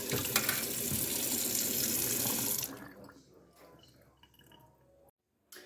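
An aloe vera leaf is rinsed under a running kitchen tap, giving a loud, steady rush of water that stops about halfway through, followed by quieter drips and handling.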